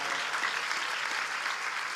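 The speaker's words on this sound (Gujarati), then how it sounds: "એને જોરદાર તાળીઓના નાદ સાથે વધાવો" A large audience of about 2,000 people at a Gujarati devotional program in Melbourne, Australia, clapping in a dense, steady roar of applause that holds at full strength throughout.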